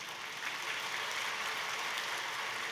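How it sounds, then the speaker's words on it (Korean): A church congregation applauding during a sermon, a steady, dense wash of many hands clapping at moderate distance with no voices over it. "박수는 좀 이따가 해줘야 되겠어요."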